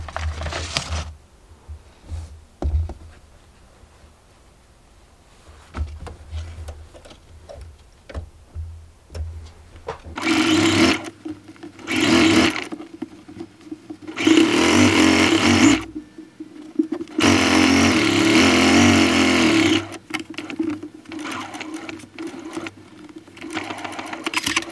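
A sewing machine stitches the back seam of a two-piece memory bear, running in several loud bursts of steady whirring separated by short pauses, with quiet handling and low background noise before the first run.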